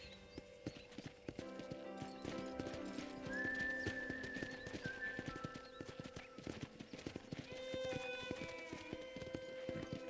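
Horse hooves clip-clop in a steady, close rhythm in Red Dead Redemption, with repeated whinnies and neighs rising over the hoofbeats and a whistle in the background, with no talk.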